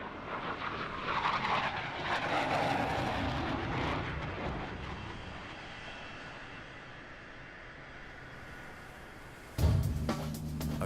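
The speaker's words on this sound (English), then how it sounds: "these FA-18 pilots can't rest until they bring their aircraft safely to a stop" An FA-18 fighter jet lands aboard an aircraft carrier, a loud, sustained roar of jet engine noise that dips slightly, then a sharp, louder burst near the end.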